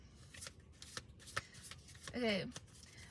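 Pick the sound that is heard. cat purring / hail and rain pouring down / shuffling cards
shuffling cards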